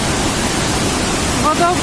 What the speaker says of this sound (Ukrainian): А зараз це така мощ водоспаду.